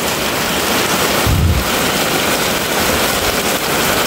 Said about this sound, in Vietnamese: cây mưa kéo dài từ nãy giờ đó bà con